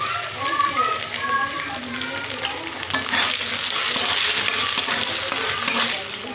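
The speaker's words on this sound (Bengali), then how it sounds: "এবার নারকেলটা ভেজে নেব।" Grated coconut frying in a pan, a steady dense sizzle that swells louder midway, with occasional stirring scrapes, close and continuous throughout.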